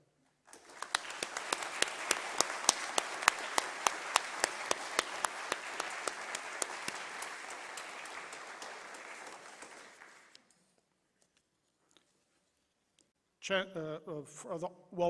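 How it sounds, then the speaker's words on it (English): A graduation ceremony crowd applauds steadily for about ten seconds, then the clapping fades into silence before a voice starts speaking. "Please join me in a round of applause to each other"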